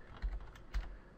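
A computer keyboard is typed on at close range as a web address is entered, with two distinct clicky keystroke clusters spaced about half a second apart.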